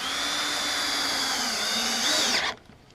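A long lag screw driven by a power drill through a striker bar and handle into a wooden gate, one sustained high whine that rises slightly then stops abruptly, close and loud, no talk.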